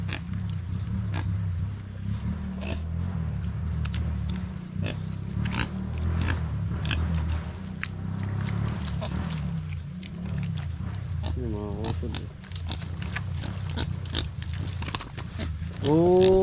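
Grunts and low snorts from a pig kept as a backyard pet, heard nearby over a steady low rumble of background noise, with a few sharper squeal-like calls toward the end.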